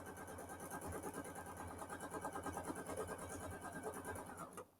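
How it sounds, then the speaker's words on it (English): A sewing machine stitches a quilt block with a rapid, even mechanical chatter of needle strokes that runs for several seconds and then stops abruptly. "I'm just going to do a couple of stitches on the top of each other and cut thread."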